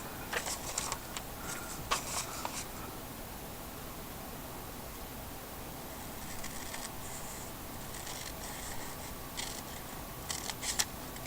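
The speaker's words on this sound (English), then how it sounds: "Let your scissors rest up here so that when you cut, you get a clean cut." Scissors snipping through a book page to make pockets, quiet crisp clicks and cuts in short clustered bursts, close and faint against a soft hiss.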